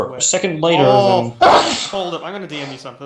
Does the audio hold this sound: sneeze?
yes